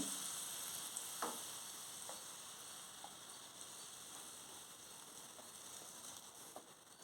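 Kaanagarttala fish frying in a pan over a medium flame, a quiet, even hiss of sizzling oil throughout with a few faint pops and ticks.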